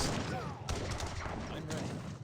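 Gatling gun and musket fire in an Age of Empires 3 battle crackle as a dense, continuous barrage with sharper volleys standing out, partly under a commentator's voice.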